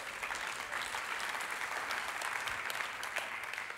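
An audience claps steadily throughout a church talk, a dense, even patter of many hands at a moderate distance with no voices over it.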